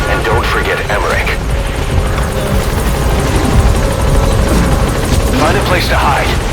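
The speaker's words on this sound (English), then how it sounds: "All right, the chopper's touching down" In Metal Gear Solid V, a helicopter sets down with a loud, steady rotor roar and whine that fills the whole stretch, while voices talk over it.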